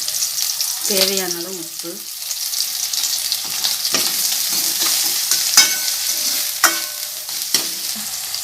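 Onions sautéing in a pan for a Tamil egg curry, with steady frying sizzle, stirring scrapes and occasional clinks of a spoon against the pan, briefly under a voice at the start.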